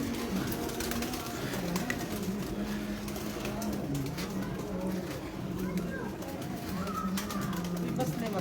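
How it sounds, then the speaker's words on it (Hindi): Pigeons coo in a soft, repeated rolling murmur outdoors while someone talks over them, the birds steady in the background throughout. "अभी ये कबूतर उड़े हैं बाहर रहेंगे सारे लाइटों तक।"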